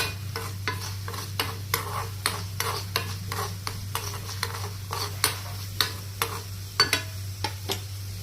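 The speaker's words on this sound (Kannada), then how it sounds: "ಇದು ಸ್ವಲ್ಪ ಕಲರ್ ಆಗೋವರೆಗೂ ನಾವು ಫ್ರೈ ಮಾಡ್ಕೋಬೇಕು." A spoon stirring and scraping in a pan while two kinds of dal fry for beans palya, with a quick steady rhythm of light knocks over a soft sizzle and a low steady hum.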